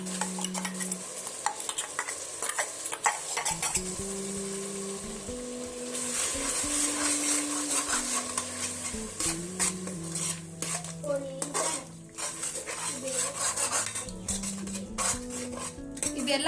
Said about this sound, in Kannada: ಇದನ್ನು ನಾವು ಲೋ ಫ್ಲೇಮ್ ಇಟ್ಟನ್ನು ಫ್ರೈ ಮಾಡ್ಕೋಬೇಕ್ರಿ